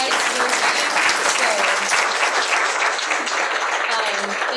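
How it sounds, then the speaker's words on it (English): A crowd applauds steadily, a dense wash of clapping that holds at an even level throughout, with faint voices mixed in. "I just want to give just a big round of applause to Laura"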